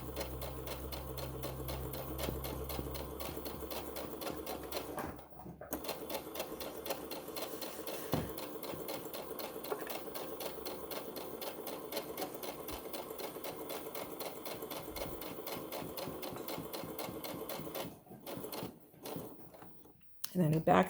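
A sewing machine stitches along the edges of a fabric tote bag, a steady rapid mechanical whir that pauses briefly, then runs on before stopping near the end.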